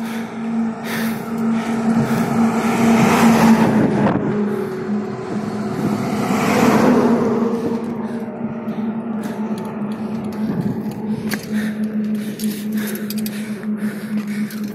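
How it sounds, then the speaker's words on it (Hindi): Two trucks pass fast on a road beside a cyclist, a loud rising and falling engine roar and rushing swell that peaks twice and then fades, heard close with steady road noise underneath. "तो गाइस, अभी आगे से आ रहे हैं दो ट्रक"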